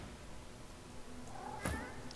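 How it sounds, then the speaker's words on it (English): An undead cat in a video game hisses and yowls aggressively, a brief, fairly faint outburst peaking late over a steady noisy background. "The undead cat arches its back and hisses aggressively at your presence."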